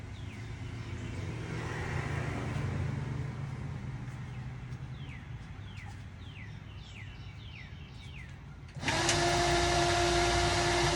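A steady motor whir and airy rush of a small fan powered by a drill battery hums throughout, joined near the end by a louder, brighter blast of rushing air, with faint bird chirps in the background.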